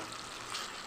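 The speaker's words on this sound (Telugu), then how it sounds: "కావాలితే మీరు ఒక్క 4-5 చెంచాలు వేసుకోండి వాటరు" Water is poured into a pan of chicken fry masala, giving a short, hissing, gushing splash that is faint and brief.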